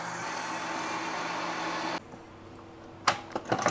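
A Ninja Creami ice cream maker running its mix-in cycle, a loud steady motor whir that stops abruptly, followed by a few sharp clicks and clunks.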